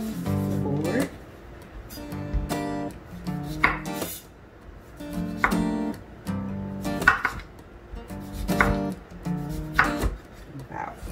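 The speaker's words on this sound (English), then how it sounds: "And now I also am going to cut my lemon." A knife cuts through a lemon on a cutting board in about five knock-and-slice strokes, roughly one every two seconds, each ending in a clear tap. Faint ringing tones sound between the strokes.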